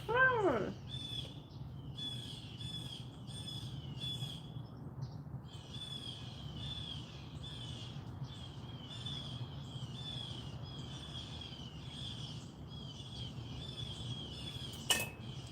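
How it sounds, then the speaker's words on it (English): A bird sings in rapid bursts of high tweets and trills, repeating in a steady back-and-forth pattern over a low background hum. "it's like a bird singing battle, you hear it?"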